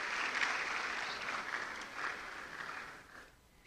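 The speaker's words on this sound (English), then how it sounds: "A round of applause to yourselves" Audience at an e-learning week event at KNUST applauding steadily, a dense wash of many hands clapping that fades toward the end.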